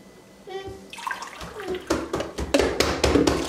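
Water poured from a container into semolina batter for traditional Constantine-style semolina pancakes, a splashing stream that builds louder and fuller, close up, with no talk over it.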